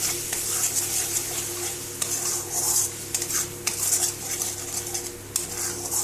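Bhetki fish pieces sizzle in hot oil in a pan while a utensil stirs and scrapes, with a steady frying hiss and intermittent metallic clinks.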